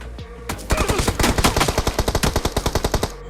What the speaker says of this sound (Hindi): अब भाई मेरे पे ऊपर किसी ने गोली चलाई